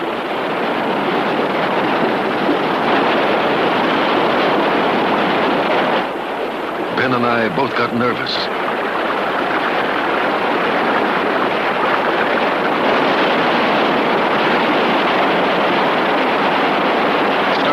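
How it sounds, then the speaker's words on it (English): Rushing river rapids roar as a loud, steady broadband wash of white water, continuous throughout, with someone briefly talking over it. "But the white water came up sudden."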